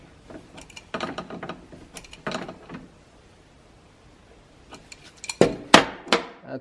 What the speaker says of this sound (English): Put the nut on. Lock that down. With the wrench.